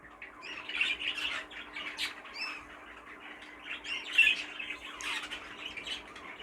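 Fife canary squawking and chirping in repeated bursts, fairly close and moderately loud, with a faint steady hum underneath and no talking.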